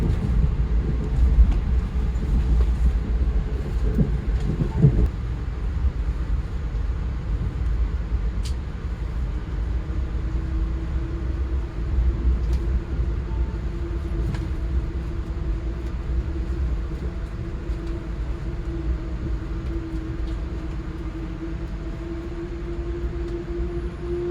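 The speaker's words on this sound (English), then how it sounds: "New Haven, Connecticut, now arriving." An Amtrak Northeast Regional train arriving at New Haven, Connecticut rumbles steadily with low mechanical drone and a rising whine, then a sustained hum as it slows; no voices, constant moderate loudness throughout.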